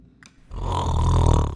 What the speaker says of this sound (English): the giant was fast asleep, snoring loudly